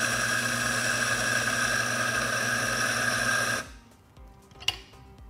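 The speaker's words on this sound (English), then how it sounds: "All right, let's go ahead and grind some coffee." A Mahlkonig E65S or E80 GbW espresso grinder grinds coffee with a loud, steady high-pitched whir that stops after a few seconds, followed by quiet handling clicks and a single sharp knock.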